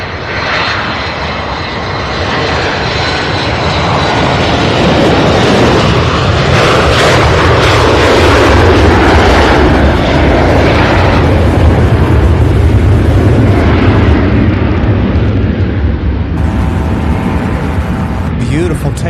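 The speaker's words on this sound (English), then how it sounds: "I believe this is the 727" A Boeing 727 jet airliner takes off at SDF, its engines building into a loud, sustained roar that dominates for the whole stretch, with a voice talking over it.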